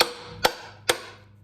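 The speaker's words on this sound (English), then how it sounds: "take your hammer" Two sharp metallic strikes of a hammer on a spring-loaded impact driver, loosening rusty T30 bolts on an Audi timing cover, evenly spaced about half a second apart, each ringing briefly before fading, with no talking.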